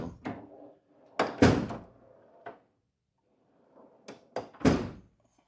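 Tool chest drawers being pulled open and pushed shut during a search, a series of close, loud thunks and sliding clatters separated by short pauses, with no talking.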